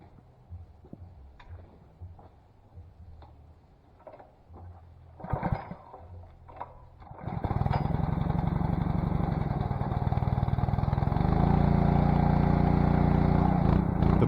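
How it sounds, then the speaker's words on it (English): Small engine rumbles and sputters, then roars to a steady loud running drone with a pulsating throb from air trapped in a newly replaced pump, a Simpson 3200 PSI gas pressure washer, close by. "we can start the engine and test the pressure washer."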